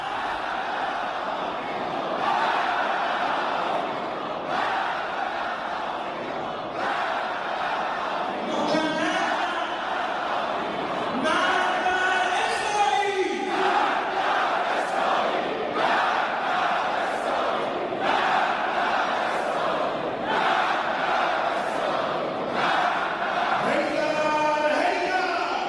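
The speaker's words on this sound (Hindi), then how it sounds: "तेहरान के आजादी स्क्वायर पर उमड़ी भारी भीड़" A huge crowd of supporters gathers at Azadi Square in Tehran, a massed roar of chanting voices rising and falling in repeated rhythmic bursts that stays loud and continuous throughout.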